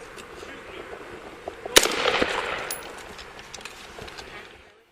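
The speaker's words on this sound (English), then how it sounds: "The officer fired one round from his rifle" A single rifle shot fired by a police officer during an armed confrontation, one sharp loud crack standing out over a noisy outdoor scene, followed by a brief rumble and fading commotion.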